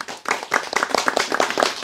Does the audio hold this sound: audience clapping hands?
yes